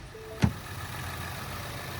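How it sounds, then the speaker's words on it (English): A 2018 Ford Explorer Sport with a 3.5-liter twin-turbo EcoBoost V6 idles smoothly nearby, a steady low hum broken by one brief sharp knock near the start. "the vehicle is currently running, nice and smooth running engine"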